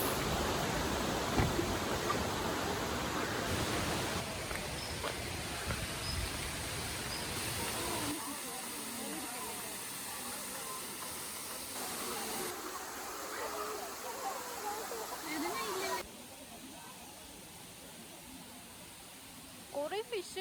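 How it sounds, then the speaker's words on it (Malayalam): Thusharagiri waterfall in Wayanad rushes as a broad, constant roar of falling water, with people talking over it and faint birdsong. "നമുക്ക് വെള്ളച്ചാട്ടത്തിൻ്റെ അടുത്തേക്ക് പോവാം"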